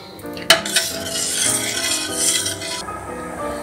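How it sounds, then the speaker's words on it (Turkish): A spoon scrapes and stirs Anatolian soup thickened with flour in a metal pot, starting with a sharp clink, then a continuous rubbing swirl before it stops. "Şimdi kaynayana kadar karıştırmam gerekiyor."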